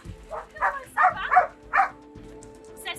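A lively, playful and affectionate street dog from Morocco gives a handful of short, close barks and yips in quick bursts, followed by a softer whine, with brief background sounds between.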